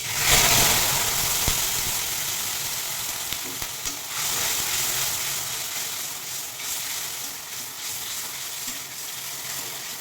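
Sour yogurt goes into a hot pan of cauliflower and paneer, producing a burst of loud sizzling and hissing that settles into steady frying crackle with faint stirring scrapes, no talking.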